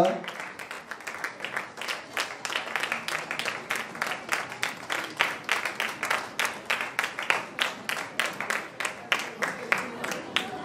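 Audience at an inauguration ceremony breaking into rhythmic, unison clapping, a steady beat of claps at a moderate distance, continuing evenly throughout.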